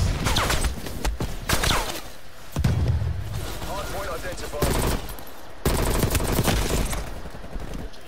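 XM4 rifle gunfire in Black Ops Cold War: repeated loud automatic bursts and sharp shots, interleaved with thuds, while a player talks over the action.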